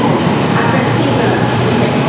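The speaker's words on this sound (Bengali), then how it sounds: "আমরা এখন ট্রেনে উঠে গেছি" Interior of a Kuala Lumpur rail line train heading out on a day trip toward Melaka, a steady close rumble and hiss of the moving car filling the cabin with no distinct speech.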